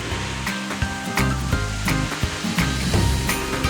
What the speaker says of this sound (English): The dry ingredients and the water have mixed together so the concrete is slushy, and that makes it easier to pour out and spread.